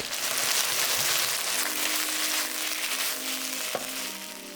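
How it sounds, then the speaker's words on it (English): Beef sears in a hot pan for Cambodian lok lak shaking beef with a loud, continuous, dense sizzle that eases slightly toward the end, broken by one brief knock. "Let it sit to sear and develop color."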